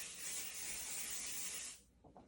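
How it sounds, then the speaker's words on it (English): Pixie spray aerosol misted onto the back of a stencil in a craft setting: a steady, close hissing spray lasting nearly two seconds, then cutting off into quiet with small handling noises. "I'm going to spray the back of my stencil with pixie spray to hold that in place"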